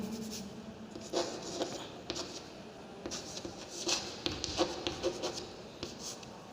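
Marker or chalk writing the word Belgium on a classroom board gives soft, close scratchy strokes in quick irregular bursts, faint and without talk.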